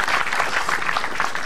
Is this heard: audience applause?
yes